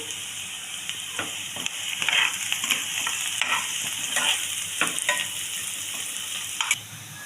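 Thinly cut ingredients fry in a pan with green chillies added, a steady loud sizzle broken by repeated scraping and stirring strokes, ending with a sharp clink.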